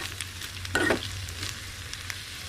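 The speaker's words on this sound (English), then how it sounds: "Now saute it well, this beans," Chopped green beans for a paneer beans curry sauté in hot oil, giving a steady close sizzle with one brief louder burst of stirring.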